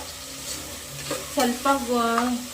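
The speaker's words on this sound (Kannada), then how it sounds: "ಮತ್ತು ಇದನ್ನು ಚೆನ್ನಾಗಿ ಫ್ರೈ ಮಾಡ್ತಾ" Food frying in a pan with stirring, a close sizzle under a voice that speaks briefly over it.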